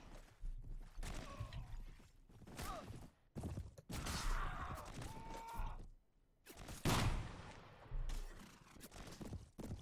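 Scattered gunshots and musket volleys in Mount and Blade: Full Invasion 2 during a Seven Years' War battle, coming in irregular bursts between quieter gaps, with a few sharp cracks and thuds amid battlefield noise.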